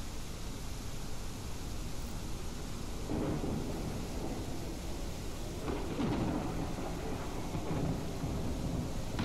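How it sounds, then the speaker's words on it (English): A loud thunderstorm rages in the survival video game Mist Survival, with dense, steady rain noise and deep rolling thunder swelling twice, filling the scene with no talk. "That storm was so loud."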